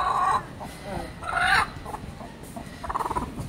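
A weak hen clucks close by in a few short, bright bursts separated by pauses, with soft background noise between the calls.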